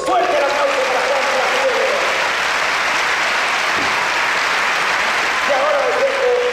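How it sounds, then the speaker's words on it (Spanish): Loud, dense audience applause at a sports city celebration in Fuenlabrada, a continuous wash of clapping that lasts throughout, with a voice briefly heard over it. "¡Fuerte el aplauso para Juan Carlos!"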